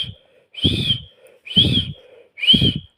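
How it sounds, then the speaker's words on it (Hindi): Loud mouth whistling done as a facial exercise for paralysis patients, three separate high shrill bursts with breathy air noise, close and alone with short pauses between. "इस तरीके से सीटी ज़ोर से बजाते हैं।"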